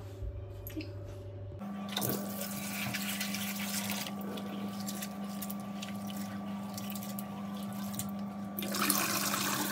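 Running water pours steadily while food, peas for a curry, is washed, making a continuous rushing splash with some louder surges, after a short stretch of other kitchen noise at the start.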